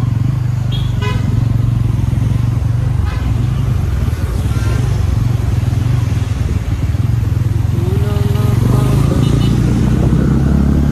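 Busy road traffic with motorcycles and cars roars loudly and continuously close by, with several short horn toots and a longer honk near the end.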